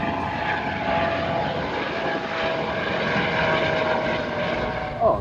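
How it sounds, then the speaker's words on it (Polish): A helicopter drones steadily overhead in the Seychelles with a whirring engine hum that stays fairly constant, moderately loud and at some distance. "O, helikopter leci akurat."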